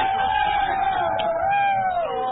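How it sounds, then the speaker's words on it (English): A crowd of close to 500 at a Wayne County high school baseball game cheers steadily with a sustained roar and scattered whoops, loud and continuous throughout. "Wayne County crowd came in full force and they're loving every minute."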